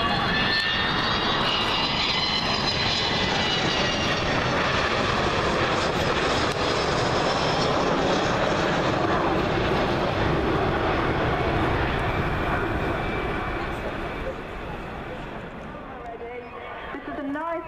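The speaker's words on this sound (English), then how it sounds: "The aircraft's going to come past us, and this is in landing configuration, just above landing speed" A Boeing 727 jet makes a slow flypast in landing configuration just above landing speed at an airshow, its engines a loud, continuous roar that swells, holds, then fades slightly as it passes, with no speech over it.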